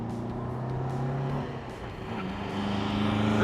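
A 1954 MG TF engine hums steadily in second gear nearby, a sustained droning tone that dips briefly then rises again as the car accelerates past.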